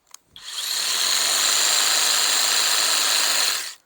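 A Kress KG259 battery hedge cutter whirs on with a smooth, high-pitched buzz, holds steady for a few seconds, then winds down.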